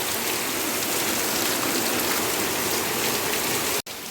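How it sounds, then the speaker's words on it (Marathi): Heavy monsoon rain pours down in a Konkan village, a dense, loud, steady hiss of drops on surfaces that briefly cuts out near the end, with no voices. "आत्ता पाऊस लागलो"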